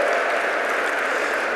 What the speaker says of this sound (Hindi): एक बार जोरदार तालियों के साथ प्रधानमंत्री जी को धन्यवाद दिया जाए